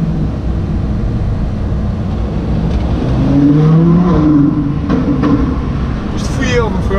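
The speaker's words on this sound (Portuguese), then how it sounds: "acho um bocadinho de barulho aqui no escape, no túnel" A Lamborghini Huracán's exhaust builds into a loud, deep roar rising in pitch, booming and echoing inside a tunnel, with a voice speaking briefly near the end.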